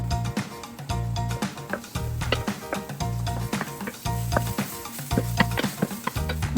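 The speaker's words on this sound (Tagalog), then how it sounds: "Pag mainit na ang mantika, ilagay natin ang bawang. Tapos, isunod natin ang sibuyas." Garlic and onion sautéing in hot oil, a continuous sizzle with frequent quick spoon clinks and scrapes against the pan, close and busy throughout, alongside a recurring low hum and no speech.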